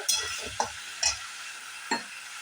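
Chunks of raw jackfruit sizzle softly in a pan while a spoon scrapes and taps the metal in a few distinct knocks, close by and without any talking.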